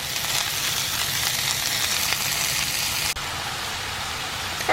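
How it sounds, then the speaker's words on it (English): Mushrooms and onions sautéing in olive oil in a skillet give a steady, close sizzle and crackle, an even hiss with a brief dip near the end and no talking. "I'm going to get these getting cooked down with a little bit of olive oil"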